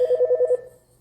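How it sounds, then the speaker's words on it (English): A mobile phone rings with a rapid warbling tone, about five quick pulses close and loud, then cuts off into quiet. "my phone's ringing."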